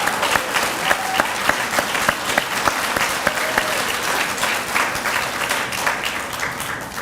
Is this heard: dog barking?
no